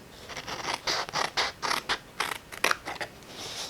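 Scissors or a blade cut out a frame piece in short, raspy, creaking strokes, about a dozen irregular snips close up and fairly quiet.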